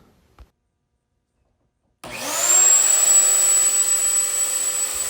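A Lowe's Shop Vac vacuum cleaner switches on after about two seconds of near silence, spinning up to a loud, steady whine and roar that holds to the end.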